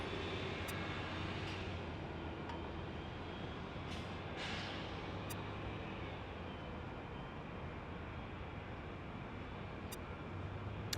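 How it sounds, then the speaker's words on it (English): Airbus A350 airliner at Los Angeles International Airport, a steady broadband jet roar holding evenly throughout with a low engine hum, distant and continuous, with no talking. "Oh, look, it's an A350."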